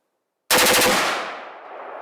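Full-auto gunfire from an AR-15 pistol with a 300 Blackout upper at an outdoor range, a sudden loud, rapid burst of shots lasting under a second, then a long echoing decay rolling away.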